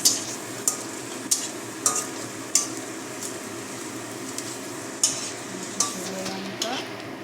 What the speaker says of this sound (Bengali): কড়ার মধ্যে পেঁয়াজ দেওয়া হলো এবং তেজপাতা দিয়ে তেল দিয়ে নাড়া হচ্ছে